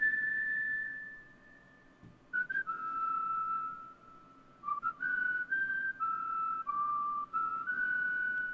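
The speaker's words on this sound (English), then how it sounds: "these are my actual whistles" A person whistles clear, pure tones alone, first a long steady note, then a series of short stepped pitches with brief pauses.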